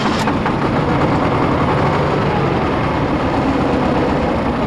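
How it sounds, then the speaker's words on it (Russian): An old Soviet-built tractor engine runs steadily, a dense, continuous low mechanical rumble with a constant rough drone and no pauses or voices. "У огородника есть верный кормилец – старенький трактор советской сборки."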